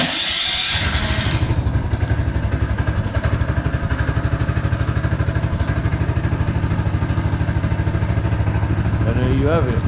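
A small mini bike engine, choked in a cold indoor space, catches after a brief cranking burst and settles into a loud, steady, rapid putter close by, with a person's voice briefly over the running engine.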